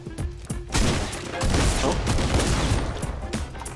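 Gunfire in the video game Fortnite: a dense, loud fusillade of rapid shots and booms that runs almost continuously through the clip after a few opening pops.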